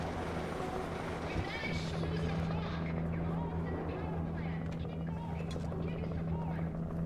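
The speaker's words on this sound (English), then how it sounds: "I just heard the... Oh, helicopter." A helicopter in Alan Wake Remastered drones steadily with a low, continuous rotor hum under game sounds and footsteps, holding an even level throughout.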